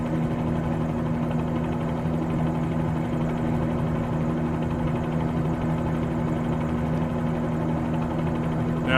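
Bell 47G helicopter in flight on a sightseeing trip over Toronto, heard from inside as a steady, loud engine drone with a constant rotor hum and no change throughout.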